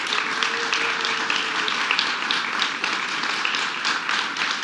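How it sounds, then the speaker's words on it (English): Audience applauding for New York Governor Kathy Hochul at a clean energy law signing, a sustained round of many hands clapping at steady volume, with a faint voice briefly audible early on. "let's give a big round of applause to our Governor, Kathy Hochul."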